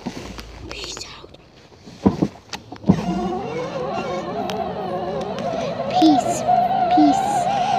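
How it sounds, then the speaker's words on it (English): A car is being driven, with a steady engine and road hum throughout, a few sharp clunks early on and soft voices murmuring over the cabin noise. "I'm driving here."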